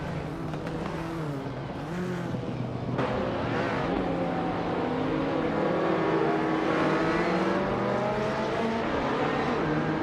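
Ferrari F40 race cars in a racing video game, engines droning and revving steadily with shifting pitch as cars accelerate and pass, a dense, continuous and fairly loud roar with no pauses.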